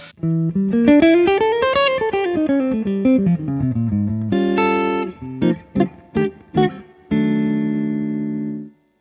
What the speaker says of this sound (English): If I was to go to my neck pickup, full humbucker mode and roll the treble down, sorry, the tone control down.